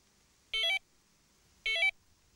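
Two short electronic beeps from a Tx-i Plus fishing bite alarm buzzer confirming programming, each a bright two-tone chirp about a quarter second long, spaced roughly a second apart in an otherwise quiet room.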